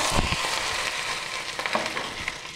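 Grated ginger sautéing in a pan for millet pongal, a dense continuous fry-sizzle close up with a few stirring scrapes and clicks near the start and middle, no talking.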